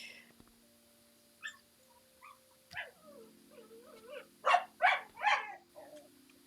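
A dog makes several short yelps and whimpering cries, with three louder bursts close together near the end, heard over a steady background hum in a quiet room.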